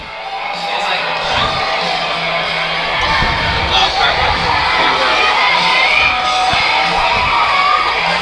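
A high school football crowd cheers and shouts in a steady, loud roar of voices with whoops and yells, heard continuously throughout.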